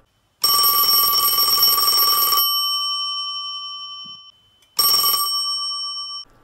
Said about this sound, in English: stopped when the phone rang